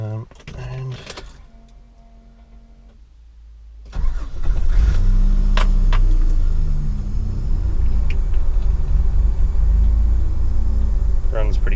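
A car engine on a cold idle turns over and catches partway through, then settles into a loud, steady, slightly uneven rumble close by after a quieter stretch.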